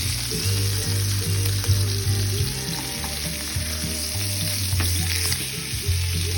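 Costco pork chops sizzling in a hot pan just after being flipped, a loud continuous frying hiss with crackles, close up, joined by low droning hum and no speech.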